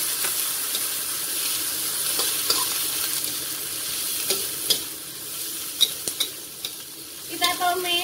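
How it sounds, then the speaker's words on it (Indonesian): Anchovies and chilies, with shallots, garlic and small, green and large chilies, stir-fry in a pan with a steady loud sizzle, broken by sharp scraping and clinking strokes from the stirring near the end. "Kita tumis sampai apa itu, cabai sama terinya setengah matang ya"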